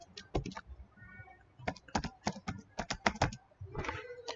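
Fingers tap out an email address on a computer keyboard in quick irregular bursts of crisp clicks, close up, with a short pause partway through.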